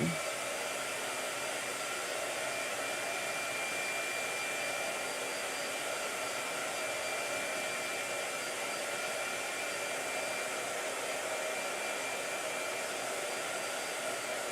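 Loud, unbroken whoosh of a blow dryer running close by for the full length, steady airflow roar with a thin motor whine and no pauses, used during a painting session.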